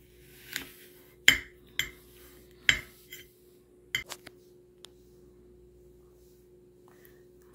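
A knife cuts open a freshly harvested dragon fruit, giving a handful of sharp clicking taps and short scraping cuts against a board, spaced irregularly over a few seconds and fading to quiet at the end.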